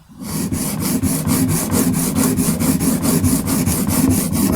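A small chisel is rubbed back and forth flat on a sharpening stone, giving a steady, close scraping rasp with regular strokes about four or five per second, continuous throughout with no talking.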